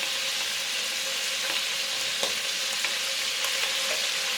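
Onion, ginger and garlic hit a hot pan for Indian beef curry, making a quiet, continuous sizzling hiss with a few faint pops and stirring taps.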